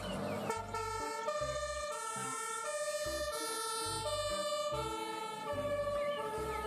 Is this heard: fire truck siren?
yes